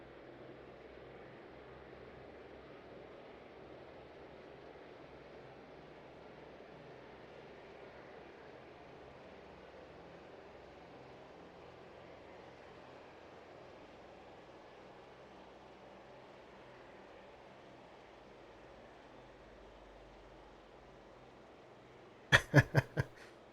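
Airliner taking off in the air traffic control game Tower 3D Pro, a steady low engine roar throughout, fairly faint, ending in a brief burst of sharp clicks.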